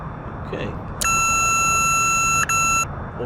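An autopilot disconnect alert in the X-Plane 11 flight simulator: a steady electronic tone sounds for nearly two seconds, clear and loud, briefly broken once before it ends, over a low background hum.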